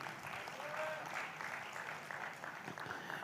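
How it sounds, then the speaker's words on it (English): An audience at a digital transformation summit applauds in a hall. The clapping is steady and dense and carries on for a few seconds at a moderate, slightly distant level. "Can we clap for them, ladies and gentlemen?"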